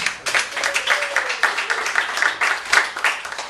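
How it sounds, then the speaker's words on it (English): Live comedy club crowd clapping for a comedian taking the stage, a brisk burst of many hands, fairly close and loud, with murmuring voices under it. "Please give a warm round of applause for Marc Zakarin"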